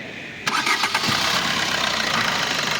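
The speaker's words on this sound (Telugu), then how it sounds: "మళ్ళీ ఆన్ చేస్తున్నాను చూడండి." A 2017 Maruti Brezza is switched back on: a quiet background, then a brief crank and the engine catches and holds a steady, close idle.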